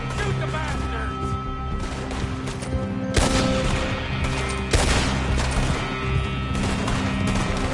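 Gunfire in a Red Dead Redemption 2 shootout, with dense overlapping shots, crashes and booms in a continuous barrage, loud and chaotic, with voices shouting underneath.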